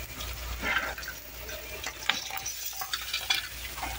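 Rice and orzo stirred into hot oil in a pot for pilaf, giving a steady low sizzle with scraping stir sounds and light clinks, close and moderately quiet, with no one talking.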